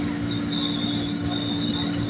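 An Indonesian KRL commuter train bound for Jakarta Kota departs and rolls steadily past nearby, wheels squealing with a high metallic whine over a continuous low rumble.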